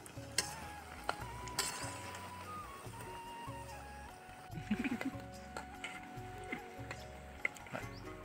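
Bread pakoras frying in hot oil outdoors in a farm field give a soft, steady sizzle with occasional light clinks and stirring sounds, faint and close.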